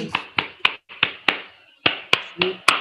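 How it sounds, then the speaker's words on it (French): Scattered applause from a small audience at an online agricultural pitch-competition awards ceremony, about ten separate sharp claps spread irregularly over a few seconds, close and fairly loud. "On vous applaudit."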